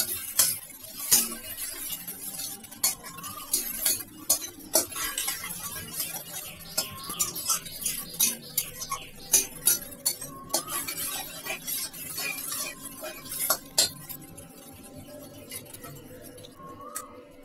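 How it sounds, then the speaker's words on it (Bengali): Onion and garlic frying in a pan for a Bengali ghugni, stirred with a utensil that scrapes and clinks against the metal in irregular bursts over a low, steady sizzle, with no talking. "ভালো করে কষিয়ে নেব। যতক্ষণ না কাঁচা গন্ধ চলে যায় পেঁয়াজ রসুনে।"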